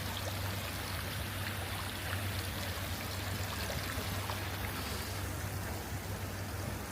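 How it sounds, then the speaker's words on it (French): A steady, continuous rush of splashing water comes from an outdoor fountain with a water-drop sculpture in an eco-designed urban oasis, filling the whole moment evenly. "Avec une superbe sculpture juste là, de gouttes d'eau, encore une fois. Et une magnifique fontaine."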